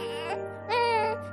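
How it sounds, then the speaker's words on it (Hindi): A newborn baby cries from inside a large trash bin in a dramatized story scene, giving two short, thin wails with a pause between them over a steady low hum. "उस बड़े से कूड़ेदान से एक बच्चे के रोने की आवाज आ रही थी।"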